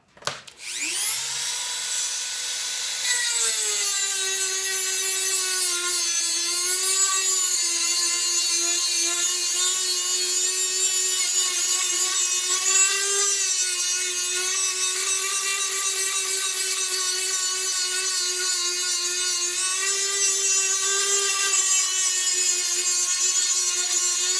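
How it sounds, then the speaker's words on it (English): Dremel rotary tool grinding out the wire groove of an epee blade, a loud sustained high-pitched whine that spins up at the start and then holds steady with slight pitch dips as it bites into the metal. "Got the Dremel running. And let's clean this groove."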